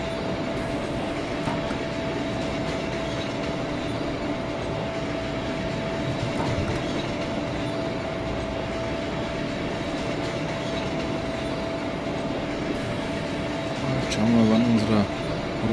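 Train in the Train Simulator 2019 video game rounding a right curve near Bad Bellingen station, a steady loud rumble of wheels and running gear with a constant tonal hum throughout, and someone speaking over it.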